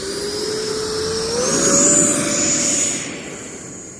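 An E-flite 90mm Viper RC ducted-fan jet taking off, a loud steady whine that climbs in pitch as the throttle rises, swells to a peak, then eases slightly as it moves away.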